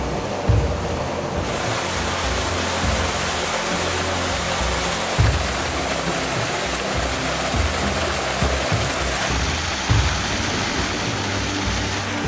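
Water gushing from a flooded mine adit in karst country, a loud continuous rushing roar that stays steady throughout with no voices.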